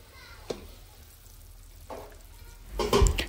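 Bottle gourd with mashkalai lentils cooking in a little oil is stirred in the pot, giving a low simmering hiss with a few brief scraping strokes and a louder clattering stir near the end.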